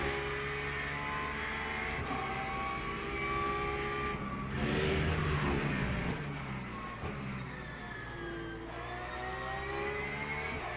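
A Corvette race car in the Le Mans Ultimate racing game holds a steady, droning engine note through gear changes at speed, with rising and falling tonal harmonics. The sound is quiet and continuous, with no voices over it.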